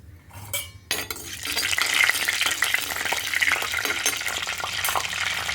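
Fenugreek seeds fry in hot oil in a pan for a sardine curry, giving a steady close sizzle with frequent clinks and scrapes of a spoon. It opens with a few brief bumps before the sizzling takes over.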